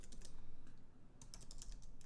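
Brisk typing on a computer keyboard, close and quiet, in quick bursts of clicky keystrokes separated by a brief lull, with no speech.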